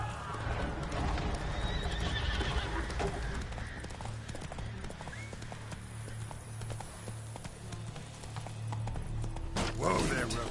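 Roach, the horse from The Witcher 3, gallops in a dense, loud drum of hooves over game music and ambience, with a sharp neigh ringing out near the end.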